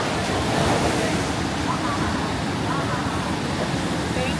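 Big ocean waves surge and crash continuously at Bali, a loud, dense roar of surf mixed with wind buffeting the microphone throughout.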